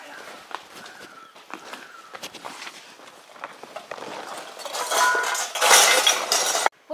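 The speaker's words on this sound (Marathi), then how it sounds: "पण बाहेर आवाज येतोय भांड्याचा कशाच तरी" Pots, dishes and cutlery clatter and clink nearby, with footsteps and scattered knocks building into a loud burst of clanging; voices talk over parts of it.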